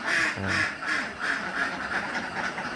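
Ducks on an intensive duck farm quack repeatedly in a loud, overlapping chorus, close by, with a steady hum of flock noise beneath.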